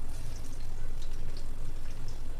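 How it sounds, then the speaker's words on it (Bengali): Chopped onion hits hot mustard oil in a wok and fries with a steady, dense sizzle and bubbling hiss that stays level and fairly close throughout, with no talking. "এখন দিয়ে দিচ্ছি পেঁয়াজ কুচি।"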